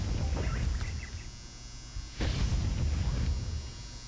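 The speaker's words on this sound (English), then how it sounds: "That buzz you just probably heard in the background, that's a dryer." A clothes dryer buzzer sounds in the background of a room, a steady electric buzzing hum that swells louder partway through and holds.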